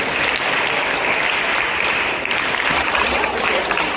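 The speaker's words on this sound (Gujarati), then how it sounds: "બંને માટે જોરદાર તાળી" Loud, dense applause from a class of children at a summer camp, steady and sustained clapping throughout with no voices.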